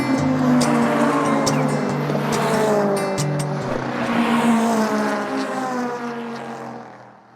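Race cars at Brands Hatch circuit roar past in a loud, sustained blur of engine noise, revs rising and falling as several cars drive by close to the listener, with no talking.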